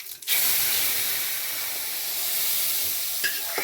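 Hot oil tempered with mustard seeds, asafoetida and dried red chillies is poured into obbattu saru rasam, bursting into a loud, close, steady sizzle and hiss that holds for several seconds, with faint clinks near the end.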